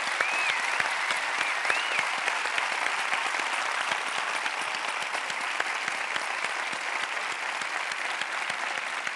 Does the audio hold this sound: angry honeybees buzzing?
no